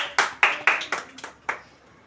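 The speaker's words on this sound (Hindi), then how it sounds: "जोरदार ताली सबके लिए।" Several sharp bursts of hand clapping from a small group, about six uneven claps spaced over two seconds, fairly close and moderately loud.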